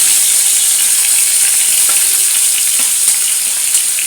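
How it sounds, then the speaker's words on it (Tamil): Tomatoes frying in hot oil with dried red chillies for a tomato chutney, giving a loud, steady, hissing sizzle close up that carries on unbroken throughout. "எண்ணெய் காஞ்சிட்டு மிளகா வத்தலும் வறுபட்டுட்டு இப்போ இந்த தக்காளி சேர்த்துக்கணும்"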